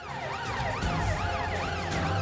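An ambulance siren wails in repeating rising and falling sweeps, loud and close, alongside low traffic rumble on a blocked road.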